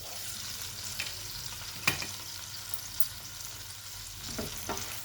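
Onions frying softly in a pan for a spinach and chana dal curry, a steady faint sizzle with a few light spoon clicks and one sharper scrape near the middle.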